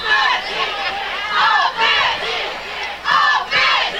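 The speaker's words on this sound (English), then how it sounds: "you hear the defense and offensive chants from both crowds" Rival high school football crowds at a Newport vs. Osceola game shout defense and offense chants, loud rhythmic bursts of massed voices rising and falling in waves, close and dominant.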